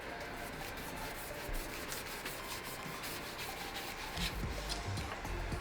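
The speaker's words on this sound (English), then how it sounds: "Now I'm gonna smooth it out really well with my higher grit sandpaper" Sandpaper of 220 grit scrubs a particle board dresser in steady, close, continuous rubbing strokes, with no talking.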